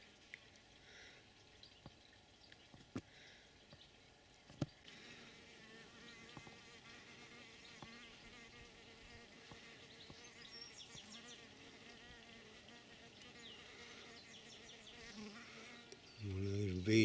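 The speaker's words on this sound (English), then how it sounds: "One of those bees whizzing about." A faint buzz of mason bees emerging from holes in clay hovers quietly through a calm late-spring garden, with small clicks scattered about and a louder rustle at the very end.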